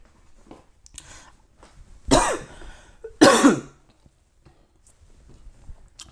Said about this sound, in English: Sorry, the cough again.